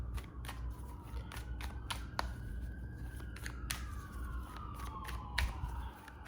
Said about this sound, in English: I'm going to take that siren in the background